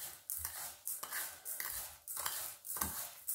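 Dry salt, sugar, Provençal herbs and pepper are stirred together in a bowl, giving rhythmic scraping and gritty swishes repeating about every half second, close and quiet.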